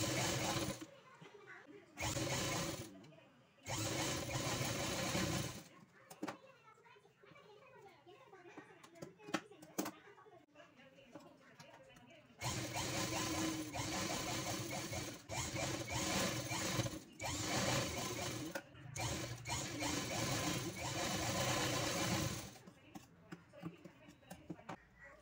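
An electric sewing machine runs a top stitch on a dress sewn from a saree, whirring in several steady bursts separated by pauses, with someone talking in between.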